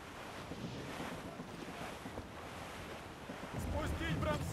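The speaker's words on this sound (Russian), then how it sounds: "Вот это ветер, капитан!" Steady roaring wind over rushing sea water aboard a sailing ship in Assassin's Creed Rogue, a constant broad whoosh that swells louder near the end, with faint tonal creaks.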